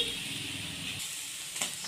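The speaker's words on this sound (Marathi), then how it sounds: "याला पण आपल्याला कढईमध्ये भाजून घ्यायचं आहे" Spices and chillies roast in a dry kadhai for a Maharashtrian village-style amti, giving a soft steady sizzle and hiss at close range, briefly interrupted by a scrape of stirring.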